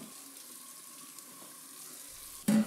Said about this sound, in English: Now, rinse off the soap suds.